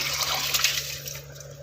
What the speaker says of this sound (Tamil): இப்போ நம்ம அப்படியே அரிசி சேர்த்துடலாம்